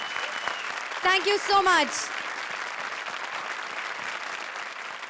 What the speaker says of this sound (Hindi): एक बार फिर जोरदार तालियां फॉर जूही एंड वीआईपी।